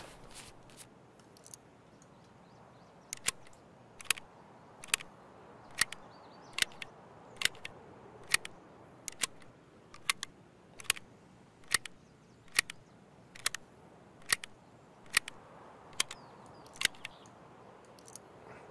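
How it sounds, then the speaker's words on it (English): Weapon reload in Escape From Tarkov: a regular series of sharp, crisp metallic clicks, about twenty in a row at a steady pace, each one short and close, with no voices in between. "I gotta quickly reload"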